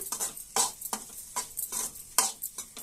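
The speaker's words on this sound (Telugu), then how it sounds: "ఇలానే బాగా పొడిగా కలపండి." An egg mixture is stirred and mixed in a bowl, making repeated scraping and sloshing strokes in a steady rhythm, close and fairly loud, with no voices.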